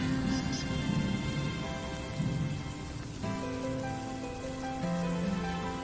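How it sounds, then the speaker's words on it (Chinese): Steady rain falling and pattering on surfaces, a continuous dense wash of sound throughout, fairly loud and close, with no talking. "下雨了"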